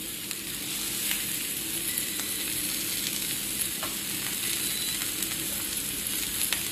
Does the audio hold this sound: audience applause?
no